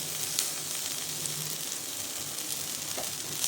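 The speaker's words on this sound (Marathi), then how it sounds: "तर आता टाकायचं आहे कांदा भाजायला" Onions sizzle steadily in hot oil in a pan for a village-style Maharashtrian patvadi curry, a continuous hiss with faint scraping touches, close and alone.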